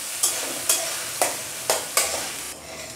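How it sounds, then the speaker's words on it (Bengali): Ginger, tomato, garlic, onion and green chili fry with spices in a pan for a Bengali pabda fish curry, a steady sizzle marked by five sharp scraping stirs at a regular pace. "এটাকে আমি এর মধ্যে দিয়ে দিচ্ছি, দিয়ে এটাকে আমি ভালো করে ফোড়নটার সাথে কষতে থাকব।"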